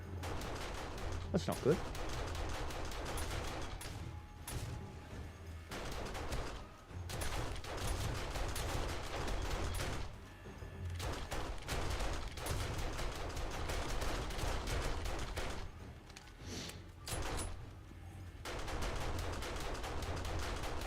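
Bursts of enemy gunfire in 7 Days to Die during horde night, clustered rapid shots against a loud busy game mix, with someone talking over parts of it.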